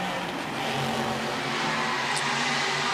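An Audi R8 GT race car engine drones steadily at a distance during night practice at the Dubai 24-hour race, a continuous mid-level hum with no clear passes or sharp revs.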